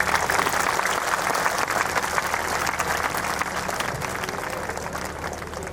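A crowd at a devotional jagran at a cow shelter in Rajpura claps for the saints in sustained, dense applause, loud and continuous, tapering slightly toward the end.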